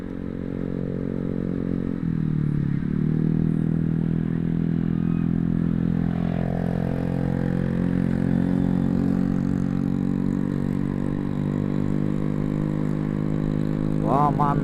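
Motorcycles and cars pass along a busy street, a steady engine drone and rumble running throughout at close range, with voices at times.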